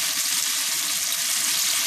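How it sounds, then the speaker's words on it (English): Bacon and tomatoes fry in a pan for bacon garlic pasta, giving a steady, close hiss of sizzling fat with no pauses. "They're still frying, starting to get crispy."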